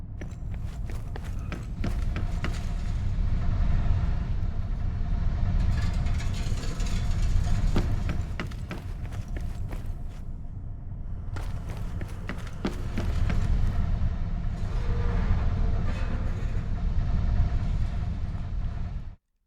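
Rumbling train engine audio in an Unreal Engine game demo using Wwise, a heavy low chugging drone with rattling mechanical clatter, fairly loud and continuous, briefly dropping away midway before resuming.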